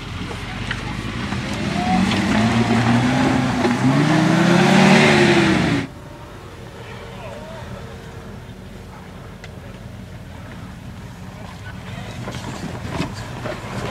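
A Volvo C303 off-road vehicle's engine revs hard, the pitch rising and falling loudly for several seconds, then dropping back to a lower, steady idle-like rumble.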